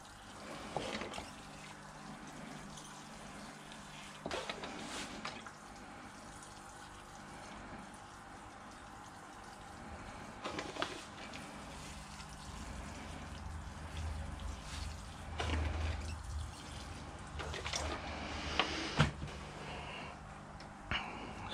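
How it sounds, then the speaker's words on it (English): Water is poured onto a potted bonsai pine in fresh soil mix, a soft, close trickle with scattered drips and light splashes running steadily with no talking. "So we'll just give that a bit of a water."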